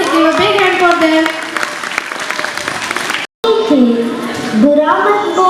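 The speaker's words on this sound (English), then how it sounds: "Please clap for them. Please give a big hand for them." An audience claps for children at a Kidzee school annual function, the applause loud and continuous beneath someone speaking over a microphone, with a brief dropout partway through.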